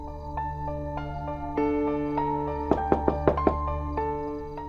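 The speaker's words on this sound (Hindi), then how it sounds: "इतनी देर से खटखटा रहे हैं" Knocking on a door: a quick run of about five sharp raps in the middle, heard over a steady musical drone in a Hindi television drama scene.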